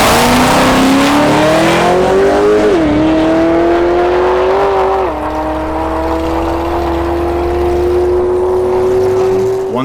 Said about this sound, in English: this time it went down the track.